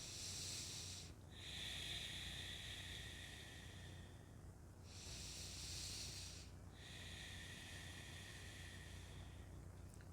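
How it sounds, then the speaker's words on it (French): Slow, deep breathing during a seated stretching routine. Three long, airy inhale and exhale cycles sound close and soft against quiet room noise. "je respire profondément"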